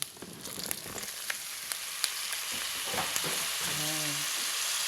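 Sponge gourd (patola) goes into a pan of sautéing pork with garlic and onion, raising a loud steady sizzle with clatters and stirring, and a brief tonal hum near the end.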